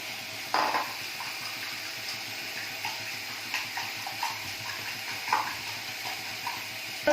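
A spoon clinks and scrapes against a bowl while masala omelette batter with ginger garlic paste and chili powder is stirred, giving soft irregular wet stirring sounds with a few sharper taps.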